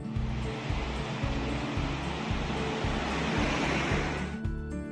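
Continuous surf washing in at San Sebastián, Spain, a broad steady roar of ocean waves with a low rhythmic rumble underneath, no voices.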